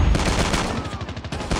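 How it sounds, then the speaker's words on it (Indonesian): A shotgun fires in Call of Duty Mobile in a quick run of loud, close blasts that pound out in a steady rhythm over about a second and a half. "Ini baru shotgun yang beneran teman-teman ya."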